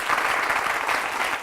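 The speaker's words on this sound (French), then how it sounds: "On l'applaudit très fort encore." A studio audience on an African television game show claps for a contestant in a brief, dense burst of applause.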